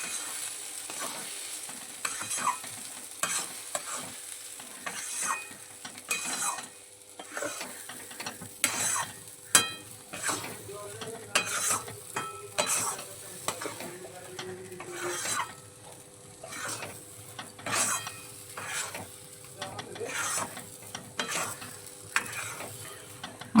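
Ground pea paste being fried in oil in a pan, with irregular scraping and clacking of a spatula stirring continuously over a faint sizzle, close and fairly quiet throughout.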